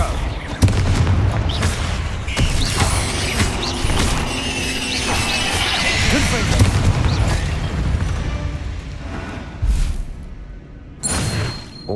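Booming fire-spell explosions from Confringo casts in the video game Hogwarts Legacy, with loud repeated blasts, crackling debris and clashing effects layered over one another, and a voice speaking between them.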